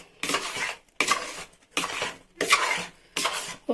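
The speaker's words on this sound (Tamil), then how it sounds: "இது இப்படி நல்லா மிக்ஸ் பண்ணிவிடலாம்." Ghee being stirred into pineapple kesari in a pan, heard as four separate bursts of scraping and clinking from a spoon against metal, each lasting about half a second. Short pauses fall between the bursts, and nobody speaks.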